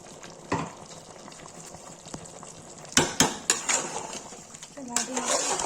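Tomatoes are stirred in a metal pot for Kashmiri chicken masala, producing clattering spoon-on-pot scrapes and knocks over a soft background sizzle, with sharper clinks in the second half.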